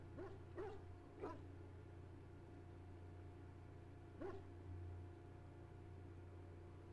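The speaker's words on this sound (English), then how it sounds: "What is that dog barking at?" A dog in the video game Dragon Age: Origins gives a few short barks, then one more a few seconds later, over a steady low game hum with no talk.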